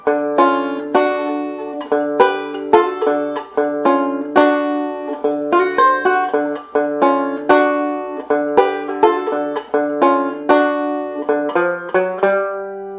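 Slow banjo passage running through the opening four bars of a blues in D, a steady stream of close, bright plucked notes with a chromatic run on the fourth string near the end, played alone.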